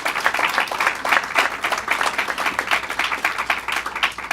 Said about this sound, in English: So let's give them a round of applause for their leadership.